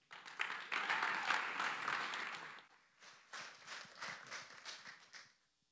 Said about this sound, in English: round of applause for our very first company, TAP